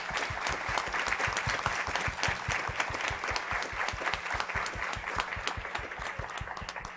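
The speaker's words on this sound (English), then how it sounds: "Can we have a round of applause?" Applause from the audience at a Pima County Board of Supervisors meeting: a room full of dense, steady clapping that carries on at an even strength for several seconds, with no voices over it.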